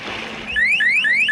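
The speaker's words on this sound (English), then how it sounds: "There's this bracelet by Safety Turtle, and it will sound an alarm the second your kid hits the water." A Safety Turtle pool safety bracelet alarm sounds a loud, rapid series of rising electronic chirps that start partway in and repeat in quick succession.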